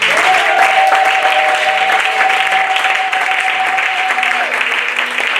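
A church congregation applauds for Jesus in a sustained, dense wave of clapping that holds steady at full loudness, with a long sustained tone running beneath much of it.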